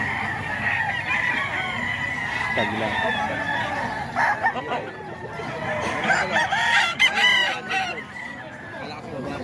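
Gamecock roosters at a Bocaue, Philippines fowl sale crow repeatedly, several birds overlapping near and farther off, with clucking and someone talking over the crowing.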